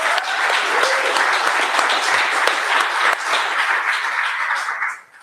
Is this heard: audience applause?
yes